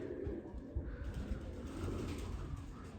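Low, soft pigeon coos murmur steadily through a muffled, rumbling background, with no talking.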